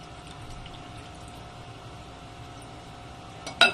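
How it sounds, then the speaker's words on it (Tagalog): Water streams into a pan of Tagalog-style beefsteak as it cooks, a soft, steady pouring hiss that holds evenly before a brief louder splash or clatter at the very end. "Dagdagan natin muna ng tubig."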